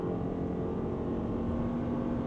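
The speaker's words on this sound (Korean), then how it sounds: "정말 꽤나 시끄러운 엔진 사운드를 가지고 있고" Inside a Lexus RX350h hybrid SUV, the engine gives a steady, loud droning hum with a strong low tone, constant throughout and with no talk over it.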